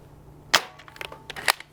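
A Nerf Minecraft Pillager's Crossbow blaster fires a foam dart with one sharp, close snap, followed by a few lighter plastic clicks and rattles.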